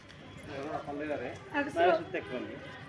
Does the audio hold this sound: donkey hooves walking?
yes